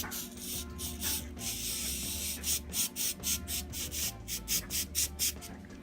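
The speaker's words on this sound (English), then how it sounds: "I'm going to take this tacky spray and I'm going to just slowly and gently spray" Short hissing bursts from a can of tacky spray adhesive puff out one after another onto a canvas drop cloth tote bag, quick and rhythmic, close up and fairly soft.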